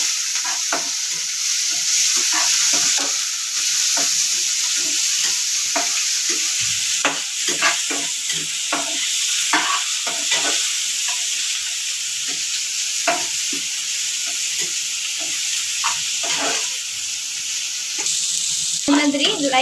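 Onion, curry leaves and green chillies frying in hot oil, with a loud, continuous close sizzle and irregular stirring scrapes throughout, and no talk.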